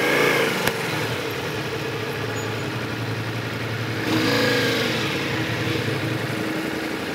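A motorcycle engine idles steadily after being started during a riding lesson, a continuous close hum with a small click early on and a slight swell in level around the middle, with no voices.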